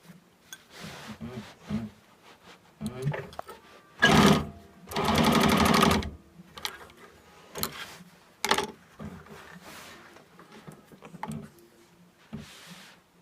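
A sewing machine runs in short bursts and one longer steady whir while stitching a bias welt corner, with quiet handling noises between runs and no talking.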